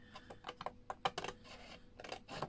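Cardboard being cut for a handmade box, a run of short crisp snips and scrapes in an irregular rhythm, close and fairly quiet with no talking.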